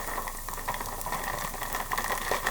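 Shrimp go into a hot pan with onions, giving a steady, close sizzle and bubbling hiss with small crackles throughout, no talking.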